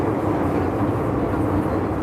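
A Hong Kong train heard from inside the carriage, a steady loud rumble and rattle of the wheels and car body that continues without a break.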